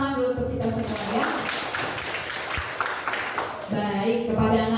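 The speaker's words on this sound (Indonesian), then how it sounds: "tepuk tangan dulu untuk kita semua ya" Students clapping hands together in a classroom during a counseling lesson, a burst of mixed clapping in the middle, with a teacher's voice talking before and after it.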